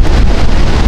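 Strong super typhoon wind in Baler, Aurora blasts loud and unbroken against the microphone, a heavy low rumbling roar with no voices.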